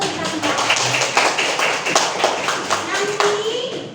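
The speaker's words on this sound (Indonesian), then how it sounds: "Tepuk tangan dulu untuk kita semua." Applause from a small group of schoolchildren in a classroom, scattered hand claps forming a steady patter over a few seconds, mixed with voices in a lively room.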